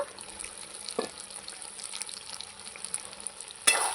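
Mutton sizzles in a pan while being sautéed and stirred, a close, steady frying hiss with a couple of sharp scrapes of the spoon against the pan.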